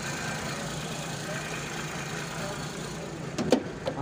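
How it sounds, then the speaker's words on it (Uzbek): A Daewoo Matiz engine idles at a car market, a steady low hum throughout with a few knocks and clicks near the end. "Motor holati yaxshi, jonbos."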